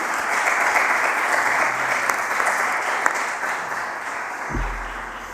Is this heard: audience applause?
yes